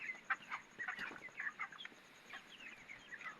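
Chickens on a poultry farm, some of them sick with a cold, give faint, scattered clucks and short calls in quick irregular bursts against a quiet background.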